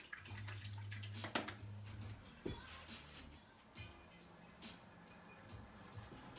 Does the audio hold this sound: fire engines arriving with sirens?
no